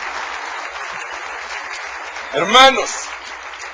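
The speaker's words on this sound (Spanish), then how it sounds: "denle un aplauso al rey" A church congregation applauds, a broad wash of clapping that runs beneath a voice addressing the crowd, with a louder spoken burst near the end.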